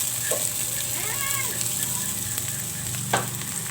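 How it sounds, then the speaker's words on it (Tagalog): Crushed garlic, sliced onion and crushed ginger sauté in a pan, giving a continuous close sizzle with light stirring scrapes and a faint higher chirp partway through. "Mix lang natin hanggang mag-brown yung ating mga panakot."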